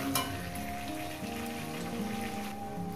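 Tomato sautéing in a pan with a fish-head masala for a cabbage dish gives a steady, close sizzle and crackle that runs throughout, with no talking.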